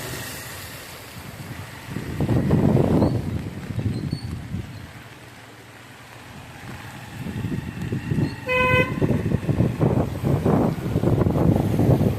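Heavy monsoon rain and floodwater wash over a flooded village road in the Konkan, heard as a steady broadband rush with swelling surges as a vehicle pushes through. A horn toots briefly partway through.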